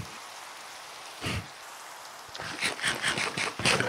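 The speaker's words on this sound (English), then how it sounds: "Oh, it's raining!" Rain falls steadily in a video game world, a dense continuous hiss with heavier splashy bursts toward the end, heard alone without talk.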